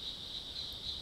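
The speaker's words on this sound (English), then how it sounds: "Those are the tree frogs you're hearing outside." Tree frogs call outdoors on an evening, a faint, steady high-pitched trilling chorus that swells slightly in pulses, with no voices.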